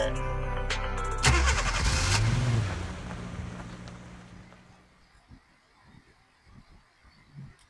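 A car engine in a video game cranks and starts, then roars loudly for a few seconds before settling into quieter intermittent rumbles and thumps as the vehicle drives off; no speech.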